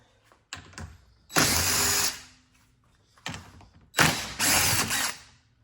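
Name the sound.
ratchet removing 10mm bolts in a Tesla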